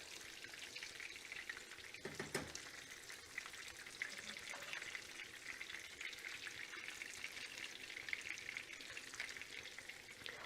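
Flounder fillets fry in a pan with a steady, dense sizzle and crackle, close and continuous, with a brief clink of a utensil early on.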